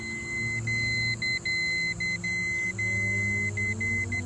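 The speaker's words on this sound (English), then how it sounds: "we should hear that beeping sound." Continuity tester beeping during a bonding test on a swimming pool, a steady high-pitched tone repeatedly broken by brief gaps, loud and close over a low background rumble.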